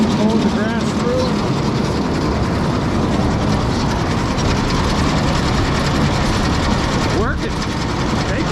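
An International 1190 haybine cutting hay in a field, a continuous loud mechanical rattle and clatter of the cutter and rollers running close by without a break.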